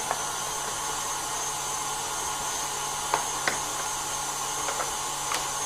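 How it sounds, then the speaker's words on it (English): An electric mixer whisks meringue with a constant, steady motor whine throughout, broken by a couple of faint light knocks near the end. "that needs about 6 minutes to whisk up there"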